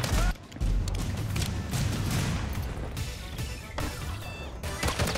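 Rapid gunfire from a Glock pistol in Call of Duty on Rebirth Island, loud and close, cracking in quick succession over a cluttered battle background with occasional impacts.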